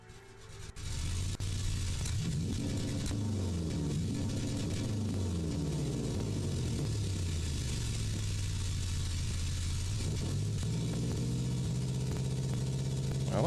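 A car engine simulated in Engine Sim software rises from idle into a revving run, with tone sweeping up and down over a steady droning rumble. It sounds breathy and slightly roomy, with no talk.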